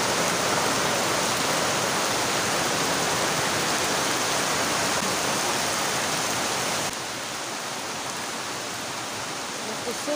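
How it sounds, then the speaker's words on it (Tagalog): Heavy tropical rain pours down in a steady, dense roar with light wind, loud and close throughout, easing slightly partway through but never letting up. "Kusog na ulan."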